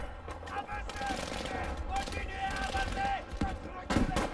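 Enemy gunfire in a Battlefield V wartime shooter, scattered shots and bursts crackling at mid distance over a steady battle din, with a voice talking throughout.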